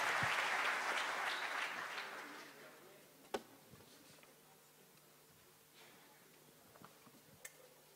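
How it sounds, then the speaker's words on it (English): Audience applause at an engineering competition event, a brief burst of clapping that fades out within about two seconds, followed by quiet room tone with a few isolated clicks. "One final round of applause."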